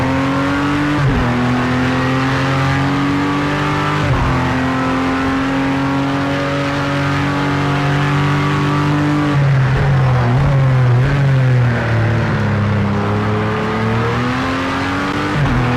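A race car at full throttle during a Daytona shakedown, the engine howling loud and steady with its pitch climbing through the gears, a brief drop at each upshift, no talk.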